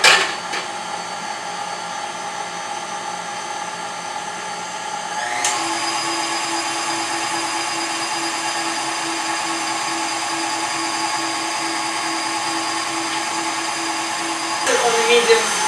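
An electric mixer whirs steadily while beating sugar, cream cheese and eggs for a truffle cake. The motor shifts speed partway through and keeps up a continuous hum, close and loud.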